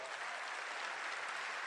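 A crowd claps loudly and steadily at an Amway event, the applause dense and even throughout with no speech over it.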